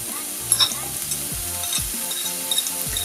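Onions frying in butter for a turkey breast cutlet sauce, a close, bright sizzle with a couple of stirring scrapes and clacks over the crackle.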